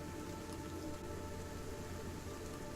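Steady rain falling on a surface, a continuous hiss of drops with a faint low rumble beneath, even and unbroken with no voices.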